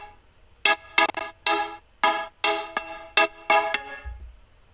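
Preset number 15 from the keys section of the Prism synthesizer plugin plays alone as a bright, bell-like keyed tone in nine short separate stabs with a loose rhythm, clean and close.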